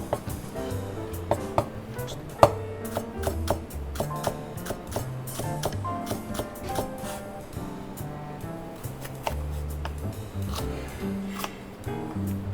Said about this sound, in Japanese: 少し粗めに切ります